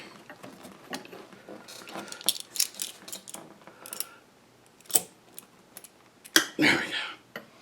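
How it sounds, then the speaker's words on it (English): Hog rings being squeezed onto a seat cover during a front seat bottom recover on a 1994 Saab 9000: scattered metallic clicks, snips and rustling fabric, with sharper squeezing snaps toward the end, close up. "Just to hold it long enough to get the hog ring on there."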